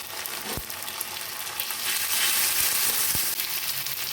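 Steady sizzling of ginger-garlic paste and chillies frying in hot oil, a dense hiss with occasional stirring knocks against the pan.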